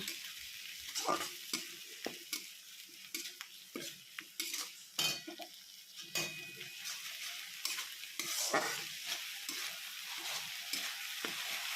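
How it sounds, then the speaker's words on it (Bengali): Garlic, ginger and green chilli paste frying with onions for Bengali fish kalia, a quiet sizzle broken by frequent clinks and scrapes of a spatula against the pan, close by. "এবার দিলাম রসুন আদা কাঁচা লঙ্কা পেস্ট। এটাকেও ভালো করে ভেজে নেব, এগুলো কাঁচা গন্ধ চলে যাওয়া পর্যন্ত।"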